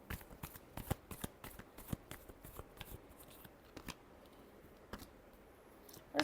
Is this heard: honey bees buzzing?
no